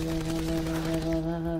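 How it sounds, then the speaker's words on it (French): Gunfire from the Call of Duty Black Ops 4 video game, a fast rattle of shots over a steady game soundtrack hum, held at a moderate level for a short stretch. "Ah arrête de tirer"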